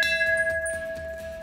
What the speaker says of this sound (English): but not before you ring this bell in triumph